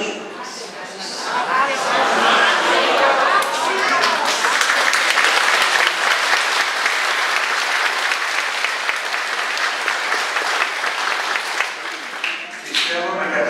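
Worshippers inside the Holy Trinity church in Kato Steni, Chalkida, burst into sustained, full applause that swells quickly and holds steady for many seconds before thinning out, with some murmured chatter beneath.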